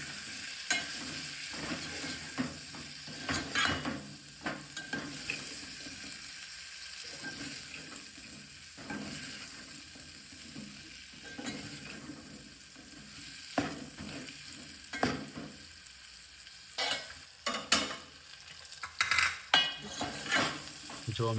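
Drumstick pod curry with turmeric, salt and coriander-cumin powder being stirred in a pan in a home kitchen, a steady low sizzle broken by repeated scraping strokes of a spoon that grow louder and busier toward the end.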